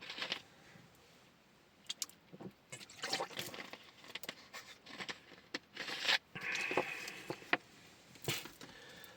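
A person drinking water in a quiet room, with soft sips, swallows and small liquid sounds coming in irregular bursts, close and faint, and no talking.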